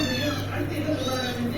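A pet cat gives a sustained, repeated meow close to the listener, the calls blending into one another while a person talks at the same time.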